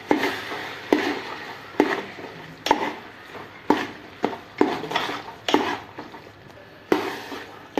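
Spoon stirring eggplant bharta with chopped green onion in a pan: about ten rhythmic scraping strokes, each with a soft clink and a brief mushy squelch, close up and without talk.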